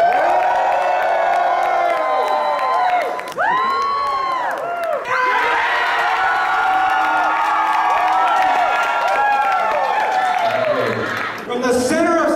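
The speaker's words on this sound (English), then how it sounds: "The loudest cheer keeps them here." An audience at a live startup pitch event cheers loudly and continuously, a dense crowd roar with whoops and shouts rising and dipping over several seconds.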